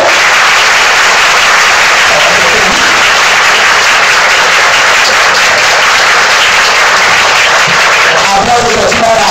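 A crowd applauds loudly and continuously for Camilo López at a nightclub show at Acquamares, a dense wash of clapping that fills the whole stretch with a few voices mixed in.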